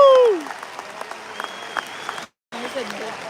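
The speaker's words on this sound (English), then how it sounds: "Give yourselves a round of applause, please." Crowd applause at a large Trump rally in Georgia, steady dense clapping that fades briefly then resumes, with cheering and voices mixed in.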